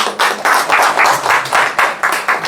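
A small group of people claps in a steady rhythm, a run of loud, close, evenly spaced hand claps lasting a couple of seconds with no talking over it.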